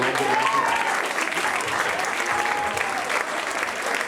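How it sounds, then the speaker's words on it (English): At a high school class reunion awards show, a crowd claps for itself, a sustained round of applause from a room full of people that holds steady throughout with no speech over it. "So give yourselves a round of applause"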